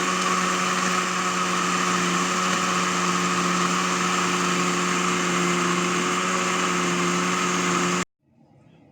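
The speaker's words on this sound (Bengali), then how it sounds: "আমি ঢাকনা দিয়ে ঢেকে নিব আর ব্লেন্ডারে 2 মিনিট আমি ব্লেন্ড করে নিব" A lidded blender runs steadily for about eight seconds, blending banana, milk and five or six ice cubes into a milkshake, giving a loud, constant motor whir that cuts off abruptly at the end.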